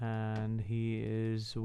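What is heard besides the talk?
No everyday noises stand out.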